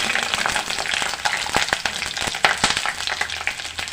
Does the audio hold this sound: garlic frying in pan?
yes